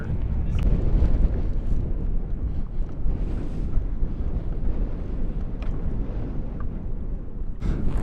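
Wind buffets the microphone at a high power rocket launch site, making a constant rumbling roar with gusty swells and a few faint higher sounds breaking through.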